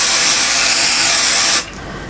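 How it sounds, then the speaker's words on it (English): A can of 505 spray adhesive hisses in one continuous, close, loud burst onto quilt wadding, stopping sharply before a quieter room tone. "So I'm going to spray this bit here."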